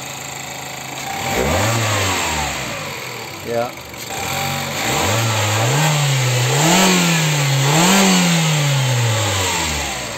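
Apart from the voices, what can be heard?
Mazda MX-5 engine revving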